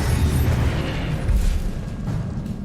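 A Confringo blasting spell explodes in Hogwarts Legacy, a loud, dense booming burst with heavy low rumble that swells and lingers across a couple of seconds.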